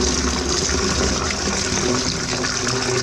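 A toilet being flushed at a blocked drain: steady, loud rushing water runs throughout without pause, with no talking.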